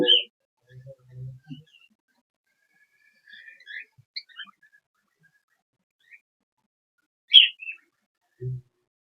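Cockatiels give short chirps and whistles in scattered bursts while feeding on rice, against near silence, some high and sharp, others low and soft.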